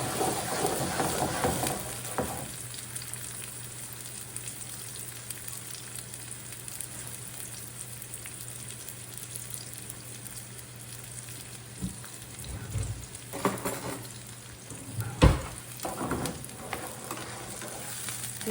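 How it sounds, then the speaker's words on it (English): Celery and garlic sautéing in oil in a skillet give a continuous soft sizzle, with scraping stirs and a few louder clunks of the utensil toward the end. "we're gonna add that all into the skillet so we can saute it"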